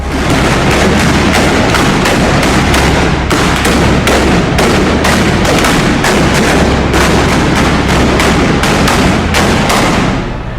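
A relentless volley of gunshots, dozens of sharp cracks in rapid irregular bursts, loud and close, with no pauses across the whole stretch.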